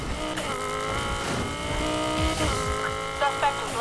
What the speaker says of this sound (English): We have a hot shot rolling around in a Lamborghini Huracan.